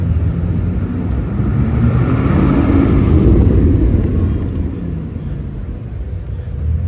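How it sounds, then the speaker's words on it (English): Hypercars including a Bugatti Chiron and a Koenigsegg Regera pull away together along a city street at a Toronto supercar show, making a loud, dense roaring rumble that swells toward the middle and stays heavy throughout. "So all the hypercars in the Grand Touring section are about to head out."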